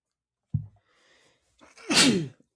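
A single sneeze: a short sharp intake, a quiet pause, then a loud explosive burst, close and alone in silence.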